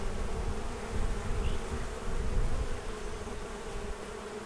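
Carniolan honey bees swarming over hive frames during a spring hive box upgrade, a dense, continuous close buzzing hum with gently swelling loudness and no voices.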